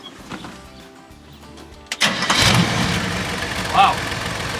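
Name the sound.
1972 GMC truck engine starting and idling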